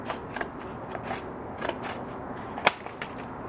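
Cutting through a sheet of high density polyethylene to make flat shims, heard as a run of close, dry scraping and clicking strokes over steady background noise, with one sharp snap near the end.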